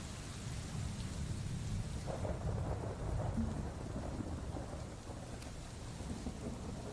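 Steady rain falls through a thunderstorm, with soft continuous patter and low rumbling thunder swelling faintly in the background, no voices present.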